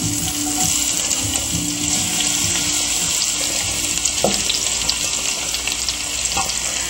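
Sauce poured over country style ribs in a hot pan sizzles and fries steadily, a loud, continuous hiss with occasional pops and faint clinks throughout.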